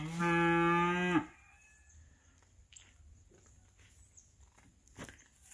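A beef feeder calf moos once, loud and near, in a barn during weaning. The call is followed by quiet barn ambience and faint rustling.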